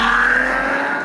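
A Cadillac ATS-V with an aftermarket downpipe gives a brief, loud, smooth exhaust drone with a steady tone that eases off slightly toward the end, heard up close and alone.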